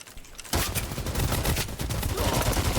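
Sustained, loud gunfire from a first-person shooter game, likely the shooter Xdefiant, kicks in after a quiet half-second and rattles on steadily to the end.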